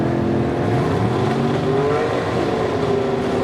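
Big-block gasser drag cars at Lassiter Mountain Dragway run together with a loud, sustained low engine roar, harmonic tones rising gradually as they pull away.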